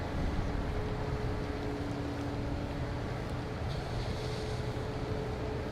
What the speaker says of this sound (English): that was the air starter. It's the air starter to start the engine